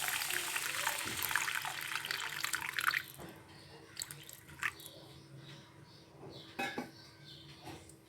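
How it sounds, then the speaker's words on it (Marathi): Water pours into a steel pot of mixed vegetables for a soup, a splashing gush for a few seconds followed by light clinks of a vessel and utensils, fairly quiet and close, with no talk. "आता मी ह्याच्यामध्ये पाणी घालून घेणार आहे. याच्यामध्ये मी जवळजवळ 3 कप पाणी घालून घेणार आहे."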